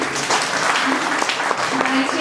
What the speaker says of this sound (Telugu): బ్రదర్కి ఒకసారి క్లాప్స్ కొట్టండి